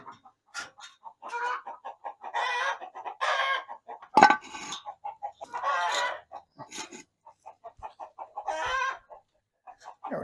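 Several chickens cluck and squawk close by in irregular bursts, with one short sharp knock partway through and brief quiet gaps between calls.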